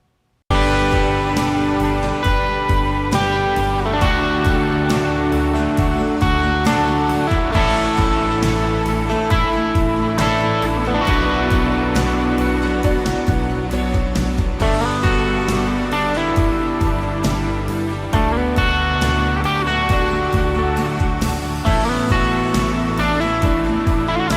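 Guitar through a Strymon BigSky reverb pedal on the cloud algorithm plays in a full, continuous musical passage, with rhythmic attacks washed into a lush, sustained ambient haze throughout and no talking.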